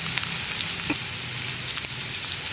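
Onion and green chilli sizzling in a pan for a vendakka puli curry, a steady bright frying hiss with small crackles, close and loud throughout, no voices.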